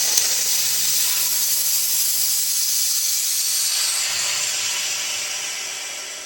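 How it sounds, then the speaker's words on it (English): Compressed air rushes out through an opened valve in a woodworking shop, a loud, continuous bright hiss that holds steady and then gradually fades as the pressure drops. "Open up the valve to get rid of all the pressure."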